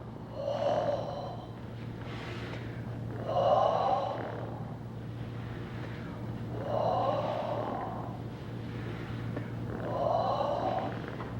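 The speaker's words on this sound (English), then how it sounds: "And deeper breathing, really expelling." Deep, forceful breaths in a guided breathing exercise, four big expelled exhalations spaced about three seconds apart, close and loud with audible airflow and rasp, over a steady low hum, no talking.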